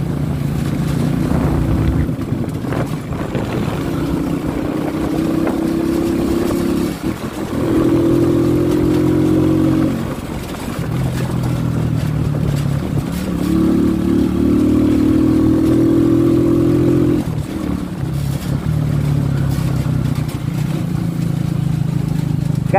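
A 450cc motorcycle engine runs loud and close, its low droning note rising and falling in long swells as the throttle changes, with no talking.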